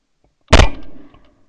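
A single loud shotgun blast during a kayak duck hunt from an Ascend H12, a sharp close report with a short rumbling decay fading over about half a second.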